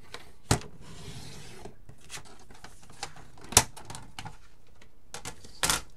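Paper trimmer cutting cardstock for a card project, heard as quiet sliding and rubbing with a few sharp clicking snaps of the blade, close and otherwise still.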